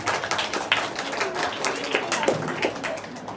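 Applause for a school student reciting a naat at a school naat competition, a dense wash of clapping from a crowd that carries steadily throughout with a few sharper claps standing out.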